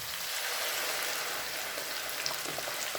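Blended pepper frying in not-yet-very-hot oil, a soft continuous sizzling hiss at low volume, steady throughout with no talk.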